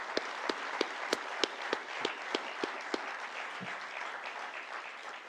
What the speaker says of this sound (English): request everyone to give a big round of applause